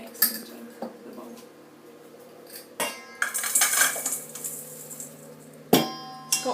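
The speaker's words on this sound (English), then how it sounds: "I'm just going to tip the ready-made mix into the bowl" Ready-made dog cookie mix of oats, flour, milk powder and carob flakes is tipped into a mixing bowl of whisked eggs, giving soft pouring rustle and sharp clinks of utensils against the bowl.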